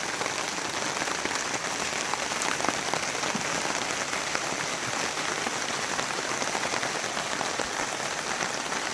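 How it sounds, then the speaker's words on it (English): Rain drumming steadily on a tarp overhead at an outdoor camp, a dense, even hiss of close drops pattering without pause. "Forecast basically says rain for the next 3 days."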